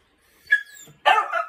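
A Crane Creek Ranger hound gives a loud, sharp bark, then a second longer, ringing bark a moment later, close by and with no one talking over it.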